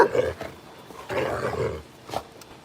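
Dogs at an animal rescue event giving several loud, rough barks in separate bursts, near and fairly forceful with short pauses between them.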